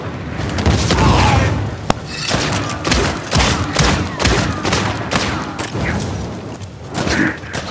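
Rapid pistol gunfire in Uncharted 4 survival mode, a dense run of loud sharp shots with booming impacts and thuds during a fight against a pirate boss.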